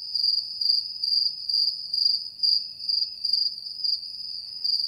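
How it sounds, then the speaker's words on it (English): A cricket chirps in steady pulsing trills, about two bursts per second, clear and close against an otherwise quiet background with no voices. "It's a cricket!"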